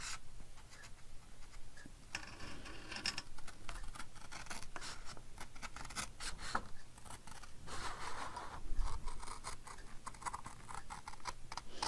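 Scissors snip through paper for a winter garden craft in quick, irregular crisp cuts and rustles, close up and sustained, with paper handling between snips and no talk.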